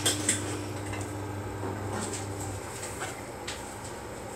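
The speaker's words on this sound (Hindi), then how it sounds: "तो अब मैं आहिस्ता आहिस्ता करके ये चीज़ें मिक्स करता हूँ।" Boiled rice being gently mixed with mint, coriander and chips for biryani in a pot, giving soft scraping and clinking of a spoon against the pot, with a low steady hum underneath and no talking.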